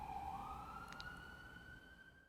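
Fire engine sirens pass at a distance, a faint rising wail gliding upward over a low rumble of traffic, with no talking.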